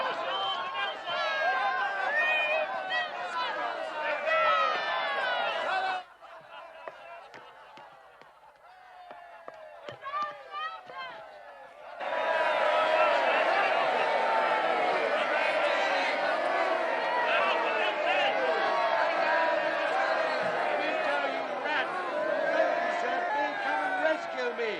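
A crowd runs and chatters, a loud, dense clamour of many overlapping voices and shouts that drops to a thinner murmur midway before surging back at full strength.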